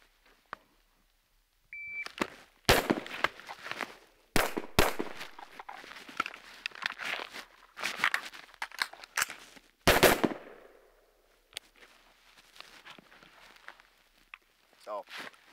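Gunfire rings out on an outdoor range during a long gun to pistol transition drill using a BAD lever: loud, sharp shots in irregular bursts, separated by handling clatter, footsteps and a voice.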